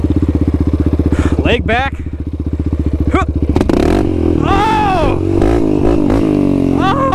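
A Yamaha Raptor 700 ATV on bald tires revs hard in first gear, its loud buzzing engine note rising and falling while riders talk and shout over it.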